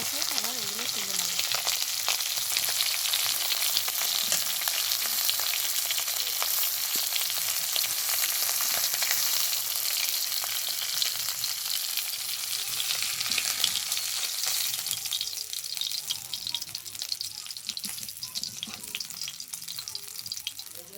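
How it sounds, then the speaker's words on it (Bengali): Pomfret fish frying in a pan of hot oil for mustard curry, a dense continuous sizzle with crackling spits, close and steady, easing slightly toward the end. "এবার বাকি মাছগুলো ভেজে নেব"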